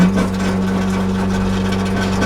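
A 1993 Honda Civic Del Sol engine runs at a steady idle, a close, continuous low hum with no revving.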